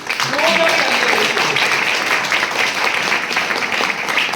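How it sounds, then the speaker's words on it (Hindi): A crowd at a motivational mega event applauds the day's achievers, a loud sustained wash of clapping with voices and chatter mixed underneath throughout. "एक बार तालियां होनी चाहिए आज के सभी अचीवर्स के लिए"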